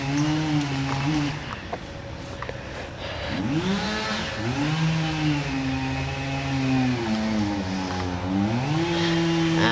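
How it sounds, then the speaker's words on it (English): Chainsaws run in a backyard during cleanup after strong winds, their engines droning steadily and rising and falling in pitch as they rev, close and continuous for the whole stretch. "Chainsaws are a rolling."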